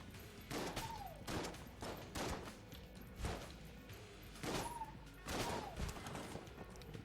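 Rapid bursts of gunfire from the bullet-hell game Enter the Gungeon, several loud volleys in uneven clusters with short gaps, mixed with brief rising electronic tones and clattering impacts.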